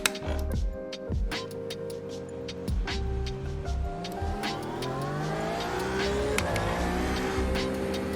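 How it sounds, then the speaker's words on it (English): A Porsche 911 RSR engine roars through a racing video game lap of the Nürburgring GP circuit, loud and continuous, revs rising and dropping with sharp gear shifts and repeated acceleration, no talking over it. "We'll be driving the Porsche 911 RSR again."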